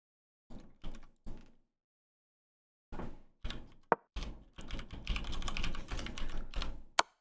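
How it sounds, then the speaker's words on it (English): Keys clack on a computer keyboard in quiet bursts, first three separate short presses, then a pause, then denser rapid typing with a couple of sharp louder key hits. "I'm typing unfollow in the console"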